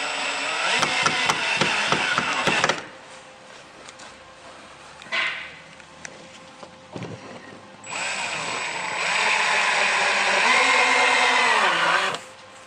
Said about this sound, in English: you want to be very careful when you put the screws in not to crack the wood